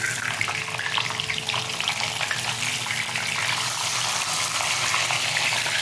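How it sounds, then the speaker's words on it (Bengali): Pointed gourds (potol) lightly frying in oil in a pan, a continuous even sizzle with faint crackling, steady and close, with no talking. "আমি এগুলো হালকা ভেজে রাখবো।"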